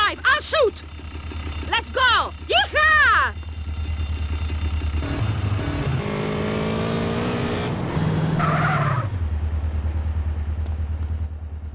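Car engine in GTA San Andreas revving steadily under game music and voices, with a rising whine and tyre-skid squeal near the end before the engine settles back to a low drone.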